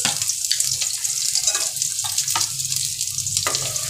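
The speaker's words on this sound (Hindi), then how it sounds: "तेल मेरा गर्म हो चुका है इसमें अब हम प्याज डाल देंगे" Onions sautéing in hot refined oil in a kadai give a loud, continuous close-up hiss and crackle with sharp spitting pops.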